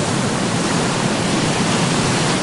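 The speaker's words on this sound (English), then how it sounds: "As the waves crashed onto the sand" Ocean waves crash on a Block Island beach at sunrise, a loud, dense, continuous roar of surf that stays steady with no distinct individual breaks and no speech.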